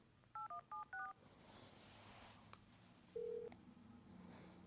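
A telephone number is dialed on a keypad: a quick run of four touch-tone beeps, a pause, then a single longer tone, all close and clear over faint room noise.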